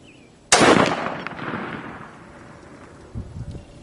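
A single sharp 6.5 Grendel rifle shot cracks loud and close at a 300-plus yard practice range, then trails off in a long fading outdoor echo, with a faint thump near the end.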